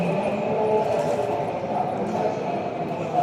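A GTX express train from Dongtan pulls into the underground Seongnam station, a steady rumble of wheels and rail noise with a sustained tonal whine, fairly loud and continuous with no speech.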